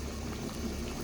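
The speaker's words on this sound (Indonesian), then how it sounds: "Nah, ini sudah mendidih ya, mulak-mulak ya." Water for chicken porridge boiling steadily in a pot, a continuous low bubbling rumble, soft and close, with no voices.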